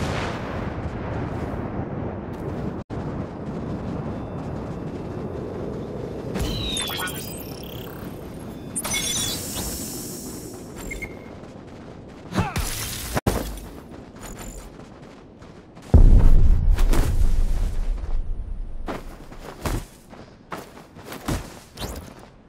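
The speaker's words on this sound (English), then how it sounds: "Nuclear missile has landed on West Zone." Nuclear missile explosion in a video game: a long low rumbling roar, then sharp crashing impacts and a heavy blast around the middle, followed by a deep booming surge and scattered bangs fading out.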